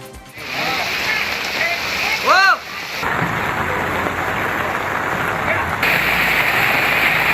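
Torrential rain pours down on a city road in Dharwad district, a dense, loud roaring wash that runs unbroken, with a brief voice-like warble rising through it partway.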